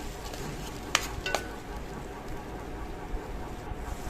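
Tomatoes, green chillies and coriander sauté in a pan with a low steady sizzle and two quick stirring scrapes near the start.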